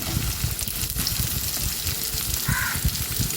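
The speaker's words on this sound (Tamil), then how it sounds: "அது கூட வெங்காயமும் கருவேப்பிலையும் போட்டுக்கலாம் எல்லாம் ஒன்றா சேர்ந்து வதங்கட்டும்" Onions, crushed garlic and curry leaves sauté together in hot oil, giving a steady close-up sizzle and crackle with soft stirring scrapes throughout.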